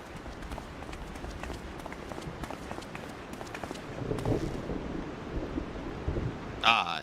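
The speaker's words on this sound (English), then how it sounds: "The thunder in the background." Low rumbling thunder in the background of a rainy forest area in the video game Final Fantasy XIV, faint and rolling beneath soft footsteps and ambient rain, with a brief bright chime near the end.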